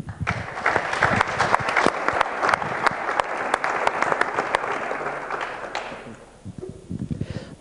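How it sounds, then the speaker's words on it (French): An audience applauding the hosts of a round-table debate, a full burst of clapping with sharp individual claps that thins out and trails off near the end. "Merci beaucoup, on peut les applaudir"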